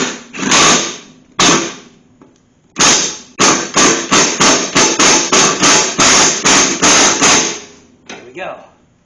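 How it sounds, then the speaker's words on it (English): An impact wrench removes the blade spindle nut on a Craftsman riding lawn mower, with a few separate loud hammering bursts followed by a fast run of repeated rattling hits, close and clear, with no talk. "So we are going to use an impact for that, because it's a pretty large thing that we're working with."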